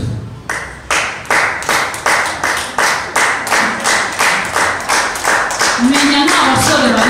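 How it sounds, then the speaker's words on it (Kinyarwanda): A church congregation claps together in a steady, fast rhythm, loud and close, with a voice beginning to speak over the final seconds. "mwikomera amashyi cyane ko mwabashije kuza imbere y'Imana"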